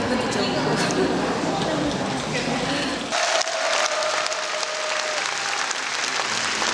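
Wedding guests applaud as the bride and groom enter a ceremony, a dense, steady wash of clapping that continues throughout, with crowd noise and an announcer's voice over it.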